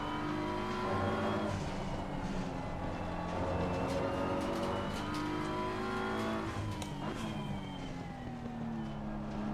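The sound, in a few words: race car engine revving, Assetto Corsa Competizione video game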